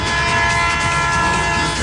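A train sounds its horn while approaching a level crossing where a truck's trailer sits on the track. The horn is a loud, sustained tone that holds steady throughout, with rail noise beneath it and no speech.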